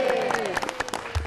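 Applause from a studio audience at a motivational talk show broadcast on TVRI in Indonesia, a brief dense burst of clapping heard close and steady, with a faint voice underneath.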